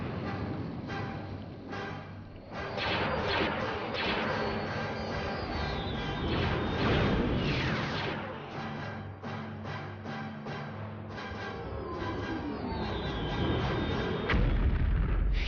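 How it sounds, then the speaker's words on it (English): The Death Star blows apart in Star Wars: Empire at War, a long roaring barrage of booming blasts and rumbling space-battle fire with laser zaps, loud and continuous throughout. "did we destroy the Death Star?"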